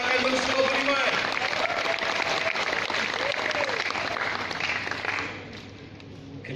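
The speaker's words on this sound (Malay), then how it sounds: "Berikan satu tepukan untuk anak kandung Suluh Budiman" Audience applause at an alumni talk event, a dense steady wash of clapping carrying on for several seconds with faint tonal voices or music beneath, then thinning and fading toward the end.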